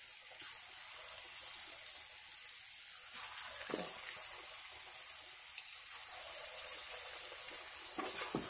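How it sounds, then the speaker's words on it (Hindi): Cauliflower pakoras are dropped a little at a time from a spoon into hot oil in a kadhai and fry with a continuous, dense crackling hiss, fairly quiet and steady throughout, with no voices. "कढ़ाई में तेल गर्म हो चुका है, अभी थोड़ा थोड़ा करके हम इसके चमचे के सहारे से डालेंगे"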